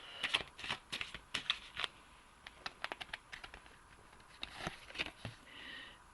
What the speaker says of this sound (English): I'm also going to pull a moon oracle card